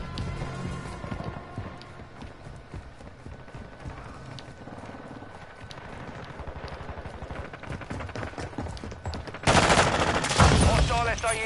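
Rapid bursts of gunfire from a Modern Warfare 2 match, sustained automatic shots crackling throughout with a louder, denser volley near the end, set against a busy game soundscape.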